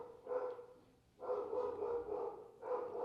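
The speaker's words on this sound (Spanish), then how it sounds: "Un perro sandinista. Un perro, ajá." A dog barking in bursts outdoors, two or three loud yelping barks separated by a short pause, fairly close and alone without speech.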